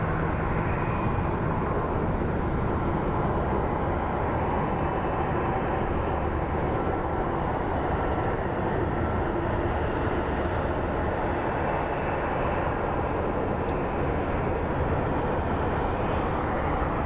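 A jet airliner lines up for the runway at Phoenix Sky Harbor International Airport, its engines producing a steady, broad, continuous roar from a distance, without pauses or other sounds.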